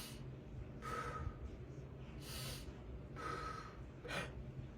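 Quick breaths taken in through the mouth, as when preparing to play saxophone, with four short airy gasps spaced about a second apart, faint and close against a quiet background.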